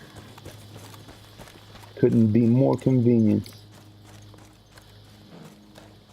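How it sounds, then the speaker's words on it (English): Horse hooves clip-clop at a steady walking pace in the video game Battlefield 1, a quiet rhythmic patter running under a man's brief speech. "There's a bit of ground to cover, so we're gonna use this horse over here."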